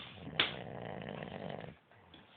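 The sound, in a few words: man snoring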